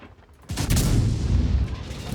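A tank cannon fires a high-explosive shell in World of Tanks, a sudden heavy boom that rolls into a sustained low rumble after a quiet lead-in.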